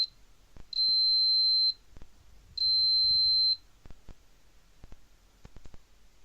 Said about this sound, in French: donc là dès que je touche, le son bip.